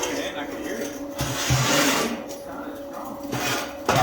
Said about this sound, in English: It welds great.